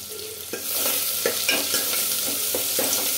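Onions frying with cloves, cinnamon, cardamom, peppercorns and bay leaf in a clay pot for bagara rice, a loud, steady sizzle broken by rhythmic scraping stirs every half second or so.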